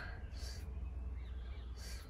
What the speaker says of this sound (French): Il y a les oiseaux, j'adore.